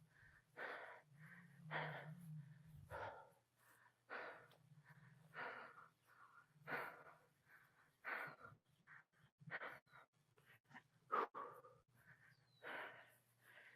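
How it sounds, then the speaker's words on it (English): Heavy, rhythmic panting during weighted vest drills: a person draws sharp breaths in and out in steady bursts, close and loud, with a low hum underneath. "the hard breathing is great"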